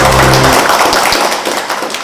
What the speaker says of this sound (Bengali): যাক আর একবার হাততালি